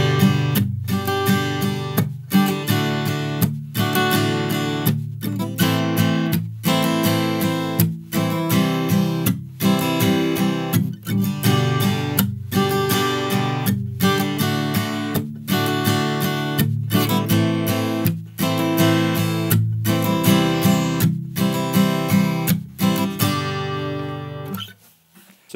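An acoustic guitar strums a steady sixteenth-note pattern with a percussive slap on beats two and four, giving a punchy, evenly spaced rhythmic pulse. The chords are played close and loud, with no talking, until a final fading chord.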